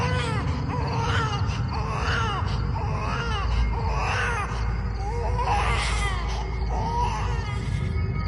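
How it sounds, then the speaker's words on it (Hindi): Faint, pained crying of a little girl as a horror story effect, a series of rising and falling wailing sobs repeating over a low droning background, with a voice speaking quietly under it. "एक बच्ची जैसी रोने की आवाज, धीमी लेकिन दर्द भरी।"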